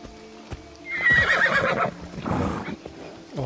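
A horse in Assassin's Creed Odyssey whinnies loudly with a rising, shaky neigh, followed by hoof clip-clops and snorting, all close and clear with no talking.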